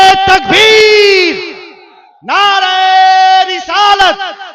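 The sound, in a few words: crowd chanting in response to Islamic slogan (nara-e-takbeer)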